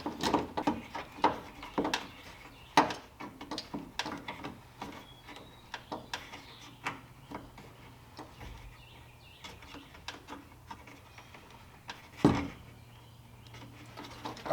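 Clamp on a Tyger tonneau cover being tightened under the bed rail of a Jeep Gladiator pickup, giving a quick series of close, sharp ratcheting clicks with short pauses between turns over quiet background.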